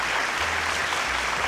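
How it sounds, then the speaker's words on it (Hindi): Audience applause greets a guest coming on stage at a Green Cinema Awards show: a dense, steady wash of clapping that fills the whole short moment, with no voices standing out. "एक बार जोरदार तालियों के साथ स्वागत तो बनता है।"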